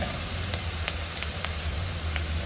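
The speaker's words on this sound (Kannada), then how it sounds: "ಇವಾಗ ಈರುಳ್ಳಿ ಕೂಡ ಚೆನ್ನಾಗಿ ಹುರ್ಕೊಂಡಿದ್ದಾಗಿದೆ ಕಲರ್ ಚೇಂಜ್ ಆಗಿದೆ" Onions sizzling and frying in a pan, a steady close hiss with a few faint clicks of a spoon, heard alone.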